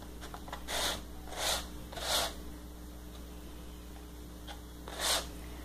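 Sandpaper wrapped around a wooden block rasps across a piece in four separate strokes, three in quick succession and one after a pause, fairly quiet and close, with no talking.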